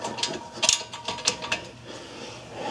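A ratchet breaks loose a bolt on a Ford Escape front brake during a pad and rotor replacement, giving a few sharp metallic clicks over a noisy, close mechanical background.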